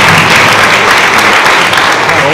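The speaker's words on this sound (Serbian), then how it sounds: "Još jedan aplauz za naše prijatelje." An audience claps for a visiting band, a dense burst of applause that is loud and close and fills the whole moment evenly.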